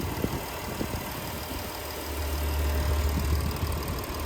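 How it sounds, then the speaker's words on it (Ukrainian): A 2015 diesel car engine with 85,000 km idles with a steady low rumble and faint ticking clatter, close by and quiet, the hum thickening slightly partway through. "Ось так шепче мотор."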